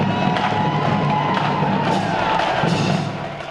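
A steady, loud crowd roar with cheering from spectators lining downtown Savannah for the St. Patrick's Day parade, continuous before easing at the end.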